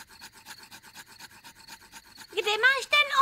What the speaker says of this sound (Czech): Budu o sebe třít tyhle dva klacíky.